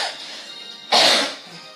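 A single sharp cough bursts out close to the microphone indoors in a hot kitchen, short and loud against a quiet background.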